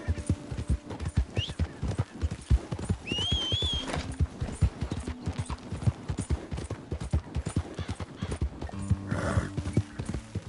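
Rapid, rhythmic hoofbeats of a galloping horse in the video game Red Dead Redemption 2 pound steadily throughout, with a brief high whinny partway through.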